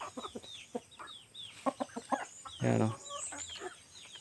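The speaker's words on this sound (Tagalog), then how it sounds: "Ating mga manok." Chickens cluck repeatedly on a small Filipino farm, a rooster-like call rising loudly near the middle, with someone speaking briefly over the birds.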